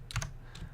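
Quick burst of typing on a computer keyboard, a cluster of three close keystrokes followed by a softer pair a moment later, close and crisp in a quiet room.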